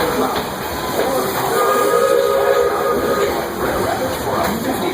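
A Disney steam train rolls along with a steady, loud rumble and clatter, while its steam whistle sounds in sustained, layered tones over the running noise.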